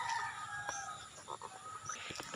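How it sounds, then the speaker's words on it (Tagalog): A large gold rooster of about two and a half kilos crows and clucks close by, with short throaty calls over a soft farmyard background. "Ito yung pinakamalaki kong manok guys."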